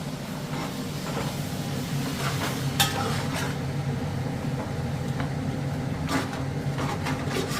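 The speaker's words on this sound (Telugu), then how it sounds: "చూసిన పాలకూర మంచిగా ఫ్రై అవుతుంది" Spinach fries in a pan for Telangana-style palak chicken, a steady loud sizzle with occasional spatula scrapes and knocks against the metal, no voices.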